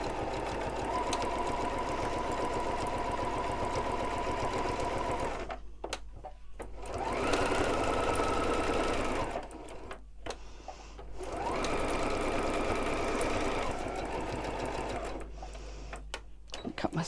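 Sewing machine stitching steadily around the edge of a fabric table mat, with a loud continuous mechanical whir that stops briefly several times and then resumes.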